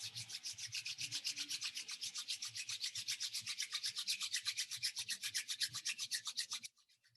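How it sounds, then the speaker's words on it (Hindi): Palms rubbed briskly together close up in a steady, fast back-and-forth swish lasting several seconds, then stopping abruptly, with no voices. "हाथों को रब कर लीजिए।"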